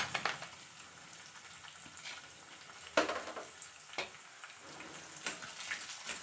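Cashews frying in oil together with chana dal and urad dal for gongura pulihora, a steady close sizzle with scattered crackles and pops, no voices.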